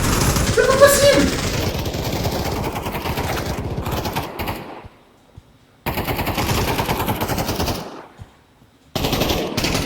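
Rapid automatic gunfire at an indoor shooting range, loud bursts broken by two short silent pauses, with a person talking over the shots.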